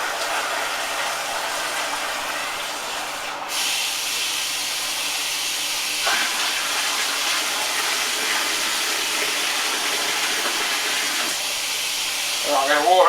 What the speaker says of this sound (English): I'll keep adding cold water